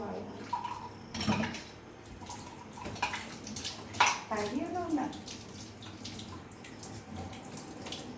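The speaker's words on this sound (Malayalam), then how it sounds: "ആദ്യം അവിടെ വെള്ളം ഒഴിക്കുക" Water is poured at home, faint and uneven, with a few splashes and trickles under quiet voices and room noise.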